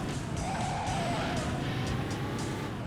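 A car in the video game Driver 2 (Redriver 2, PC) skids hard, with tires squealing over a loud, steady engine roar throughout the short burst of driving.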